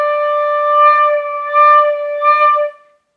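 Flute tone held on a steady airstream, with gentle swells of extra air laid over it to make a slow, pulsing vibrato, a few clear surges before the note fades out.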